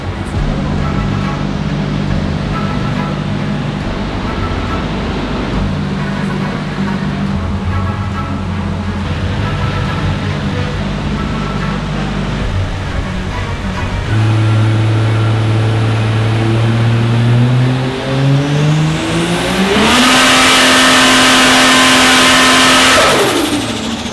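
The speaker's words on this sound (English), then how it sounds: "Let's see if we hear that two-step that we installed." A Ford Fairlane's engine drones steadily, then revs up with rising pitch and crackles, ending in a loud, harsh burst of rapid popping from a two-step limiter.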